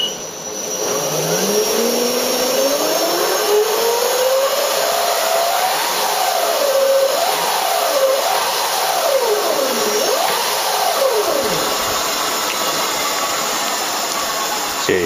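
Brushless electric scooter motor whines in rising and falling pitch sweeps as the throttle is opened and eased repeatedly, a loud steady electric whir over a constant background hiss, with no talking.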